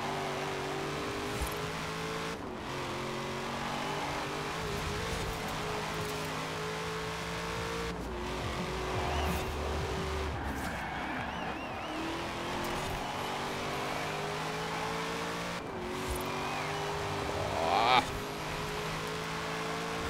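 A Chevrolet Corvette ZL1 engine in Forza Horizon 4 drones steadily as the car drives, rising and falling through gear changes with a brief tire squeal near the end.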